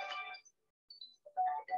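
Mobile phone ringtone going off during a lecture, a short electronic tone burst that stops, then sounds again after a brief silence, loud and alone with no talk over it.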